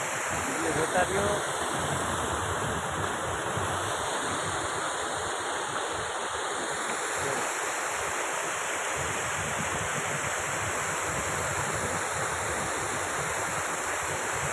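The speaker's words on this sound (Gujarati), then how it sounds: "પાણીનો જ અવાજ આવશે" Water rushes steadily from an overflowing full lake, a loud, unbroken roar close by with wind buffeting the microphone, and no talk over it.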